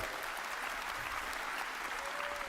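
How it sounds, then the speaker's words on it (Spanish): An audience at a CitizenCon convention presentation applauds, a dense, sustained wash of clapping from a large crowd, steady and loud across the whole stretch with no break. "por qué está la gente tan excitada aplaudiendo"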